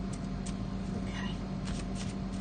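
Tarot cards being shuffled by hand, a soft continuous riffle and rustle up close under a low steady background hum.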